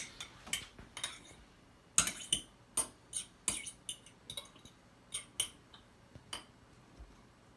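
Utensil stirring food in a container, a series of light clinking and tapping strikes at irregular intervals, close and fairly quiet, with no talking.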